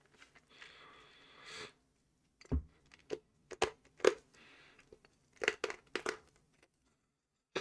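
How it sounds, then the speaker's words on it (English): Someone eating and crunching food close to the microphone, a run of sharp irregular crunches and crackles after a brief sniffing rustle, with quiet gaps in between. "You can probably hear me crunching."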